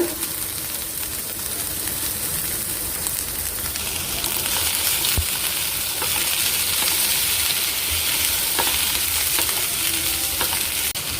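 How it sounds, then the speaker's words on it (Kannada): Tomato and onion fry in a pan for chicken pulimunchi, a loud, dense sizzle that hisses continuously like rain with occasional faint stirring knocks, close and without talking. "ಟೊಮೆಟೊ ಮತ್ತು ಆನಿಯನ್ನ ಈಗ ಫ್ರೈ ಮಾಡ್ಕೊಳ್ತಾ ಇದ್ದೇನೆ"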